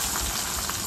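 White mustard seeds and onion frying in hot oil make a steady, dense sizzle that stays close and fairly loud, with no talking over it.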